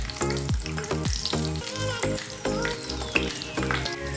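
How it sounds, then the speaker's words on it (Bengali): Steady sizzling of cashews and raisins frying in hot ghee for carrot halwa, with music playing prominently over the frying noise. "সাথে কিছুটা কিশমিশও দিয়ে দিচ্ছি দুটোকেই একসঙ্গে ভেজে নেব"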